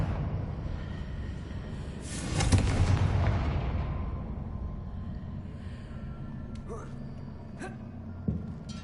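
Confringo blasting spell explosion in Hogwarts Legacy, a single booming blast that rolls out and decays over several seconds, followed by smaller sharp pops, with a voice faintly present.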